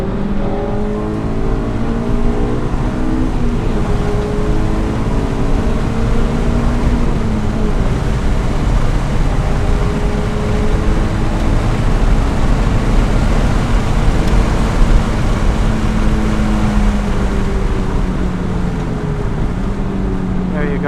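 Car engine pulling under throttle on a racetrack during a Carfest 2017 driving lesson, a loud continuous drone with rising and falling pitch as revs change, heard from inside the car with wind noise.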